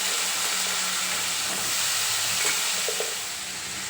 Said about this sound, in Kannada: ಎಣ್ಣೆ ಹಾಕಿದ ತಕ್ಷಣವೇ ಹಾಗಲಕಾಯಿ ಹಾಕ್ರಿ,